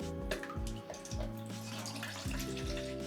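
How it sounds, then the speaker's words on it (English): D76 film developer poured from a bottle into a jug, a close liquid gurgle with rising glugs and splashes in short bursts, no voices. "So first I'm going to measure out my D76 into this jug here, and I want 650 cc's."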